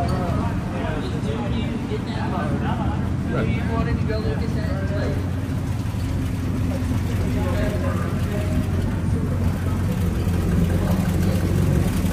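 Classic car idling quietly and evenly at the Hershey car show corral, a low steady engine hum beneath people chatting nearby and the murmur of the outdoor crowd.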